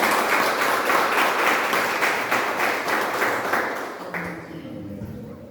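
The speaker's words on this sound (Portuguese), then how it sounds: "queria pedir a você mais uma vez que aplaudisse o nome do Senhor bem forte" A church congregation applauds loudly and steadily during a garage worship service, the dense clapping holding for several seconds before quickly fading out.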